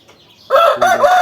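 An Indian rooster of the Asil breed crows once, close and loud, with a strained, ragged call that starts suddenly after a brief quiet moment.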